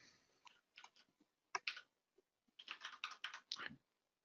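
Typing on a computer keyboard, irregular clusters of crisp close key clicks with short pauses between bursts, no talking.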